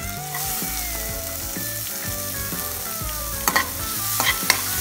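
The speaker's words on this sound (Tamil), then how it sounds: "கொஞ்சம் வதங்கட்டும், 2 நிமிஷம் வதக்கிக்கலாம்" Steady sizzling of chopped onion sautéing in a pan, with metallic scraping and stirring clinks as it's turned, continuous and fairly close.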